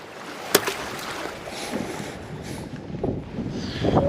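Wind blows hard across a harbour breakwater during rockfish fishing, a continuous rushing rumble buffeting the microphone, with faint knocks and gusts rising toward the end.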